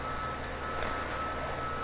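Truck reversing alarm in Farming Simulator 17, a couple of steady electronic beeps heard fairly close over a low engine hum.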